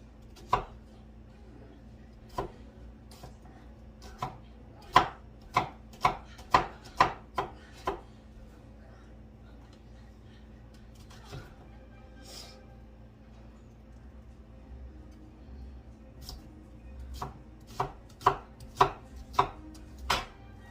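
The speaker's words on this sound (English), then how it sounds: "chop up the onion." A knife chops an onion on a cutting board in crisp, close knocks that come in quick rhythmic bursts, pause through a quieter middle, then return in another fast run.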